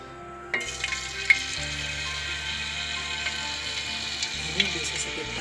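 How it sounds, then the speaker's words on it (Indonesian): Cooking oil heating in a wok over a lit flame, a steady broadband sizzle and crackle running throughout with a few sharp pops, clear and continuous. "Kita masukkan minyak goreng secukupnya."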